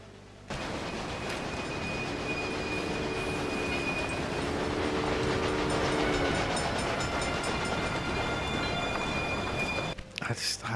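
Trains run in the railway management game Railway Empire, set in Germany: a continuous rumbling rail drone with a sustained horn-like tone and squealing overtones, fairly loud and unbroken for most of the stretch, dropping away near the end.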